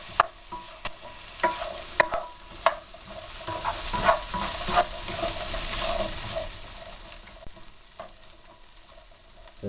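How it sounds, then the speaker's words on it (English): Beans and onions cooking in a pan, stirred with repeated knocks and scrapes over a steady sizzle, louder in the first half and easing off later, without speech. "At this point, we add the beans to them. Let them cook for a minute or two, and we'll start mashing them all up."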